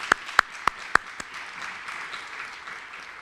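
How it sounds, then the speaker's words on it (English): A handful of sharp, separate claps from a small audience at a community college dedication ceremony, fading after about a second into quiet room tone. "Let's give him a round of applause for what he does here."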